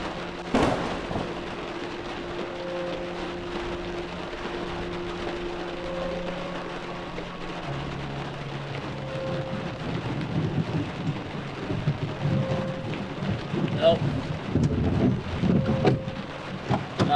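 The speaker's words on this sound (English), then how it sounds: "And the thunder, very, very loud, you could feel it in my chest." Thunderstorm over open farmland: steady, dense rain hiss runs throughout while deep thunder rumbles and crackles roll in, swelling louder toward the end, with no voices.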